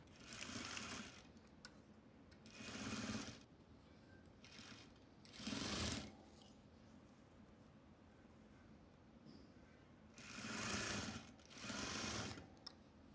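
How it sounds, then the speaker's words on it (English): Sewing machine stitching pant legs at a half-inch seam in slow, deliberate bursts, about six short runs separated by quiet pauses, soft and near. "Then we're just gonna sew along here at a 1/2 inch and do the same thing on this side."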